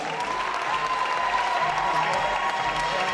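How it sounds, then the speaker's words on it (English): At a K1 kickboxing event, the crowd keeps up sustained applause with a hint of cheering, a steady wash of clapping from a large audience throughout. "Another massive round of applause for these guys."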